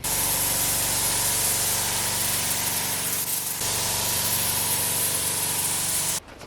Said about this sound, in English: spraying at 2 bar with a new pressure reg and compressy, and it went very much nicer